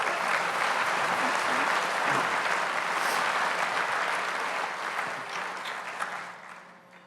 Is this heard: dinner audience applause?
yes